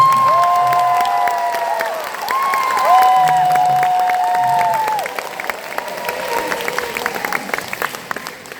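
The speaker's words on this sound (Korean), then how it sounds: "우리 지휘자 선생님 그리고 오케스트라 분들께 큰 박수 부탁드립니다" A large concert audience applauds and cheers for the conductor and orchestra at an outdoor Busan expo concert, loud sustained clapping with a few voices rising above it, thinning slightly toward the end.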